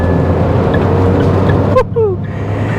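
Turbocharged Mahindra XUV300 engine pulling hard under acceleration, a steady loud drone that breaks off briefly for an upshift before resuming, heard from inside the car with road noise throughout.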